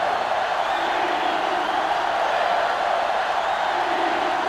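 A stadium crowd roars steadily at a college football video game between Texas and Georgia, a dense, loud, continuous wash of cheering with no distinct voices standing out.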